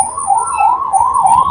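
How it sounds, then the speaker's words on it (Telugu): An ambulance siren wails in a fast rising-and-falling sweep in city street traffic, loud and close, over faint background noise. "అది అంబులెన్స్ కూడా పోతుంది."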